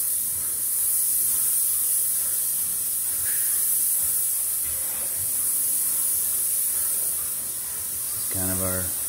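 Steady hissing spray runs throughout, like a paint gun in continuous use painting over Bondo body filler, with a short tonal burst near the end.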